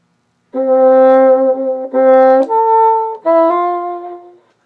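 A bassoon plays a short, plain, simplified melody from a Weissenborn etude in sustained notes across four phrases, close and solo, with brief gaps between them.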